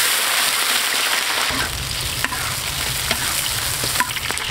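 Shrimp fry in hot oil in a wok for a spicy pot dish, a loud dense crackling sizzle that holds steady throughout, with a few brief pops and spatters near and close.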